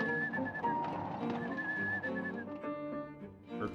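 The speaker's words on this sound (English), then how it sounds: "Heard whistling sound coming from there." A thin, wavering whistle drifts through the eerie ambience of the PS2 horror game Rule of Rose, sustained tones over a murky background.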